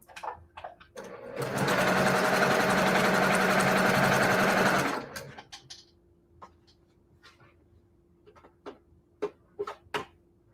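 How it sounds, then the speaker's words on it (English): A sewing machine sewing a quarter-inch quilt seam runs in one loud, fast, steady burst of about three seconds close by, followed by scattered small clicks and handling taps of the fabric. "And I'm going to sew"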